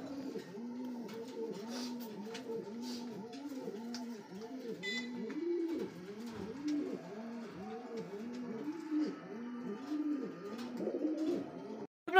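A pair of Bombay racer pigeons, turmeric-yellow, coo steadily in a continuous rolling rhythm, close and fairly loud, with no talking.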